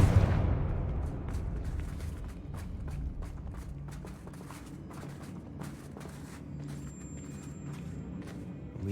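A Confringo fire spell cast in Hogwarts Legacy, heard as a loud burst at the start that trails into a rumbling, crackling tail with scattered sharp impacts and game ambience, no talking.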